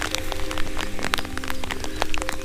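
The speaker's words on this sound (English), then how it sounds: "And the rain started." Rain falls outdoors on a field in the UK, pattering steadily with scattered close drops tapping on a surface at a moderate level, with no voices.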